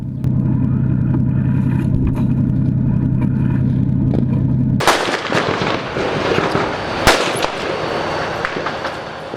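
A steady engine rumble cuts off and gives way to loud outdoor blasts during a combat assault in Jobar, Syria, with a sharp, heavy shot standing out among crackling noise.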